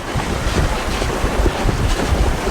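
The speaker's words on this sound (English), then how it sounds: "That's a gust." A wind gust of nearly 20 knots roars over a sailboat under way, a steady, loud rushing blast mixed with water wash and mic buffeting, with no voices.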